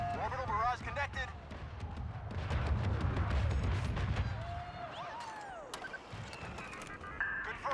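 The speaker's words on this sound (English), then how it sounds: "Orbital barrage connected." Orbital barrage explosions rumble through a Star Wars Battlefront 2 battle on Jakku, heavy low booms rolling through the middle of the clip amid blaster fire, whooshing craft and a busy war soundscape, with brief radio-style voices.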